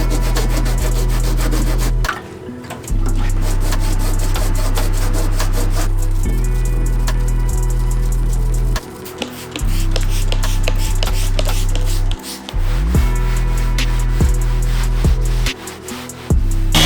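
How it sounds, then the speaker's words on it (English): A powered pad sands and polishes the painted doors and fenders of a Toyota Tacoma, a loud steady mechanical hum and rubbing broken by several brief pauses where the pad stops and restarts. "we got the doors and fenders cleaned up with a little bit of sanding there"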